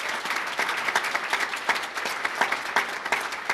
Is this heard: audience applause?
yes